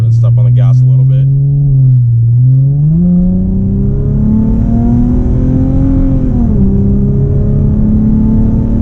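An Infiniti G35 accelerates from inside the cabin, its engine note rising steadily in pitch over several seconds with a brief dip as it shifts, loud and droning, while a person talks over it.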